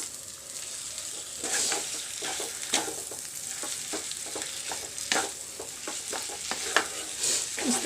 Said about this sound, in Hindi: और इसको अच्छे से हम मैश कर देते हैं।